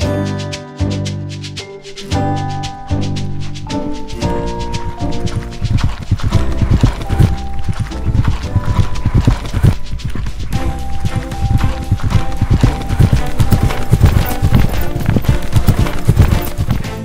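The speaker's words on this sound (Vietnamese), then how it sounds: "Ngựa chạy vòng tròn." A horse running in a circle in an animated Vietnamese folk tale, steady clip-clopping hooves with a whinny, loud and continuous over lively music.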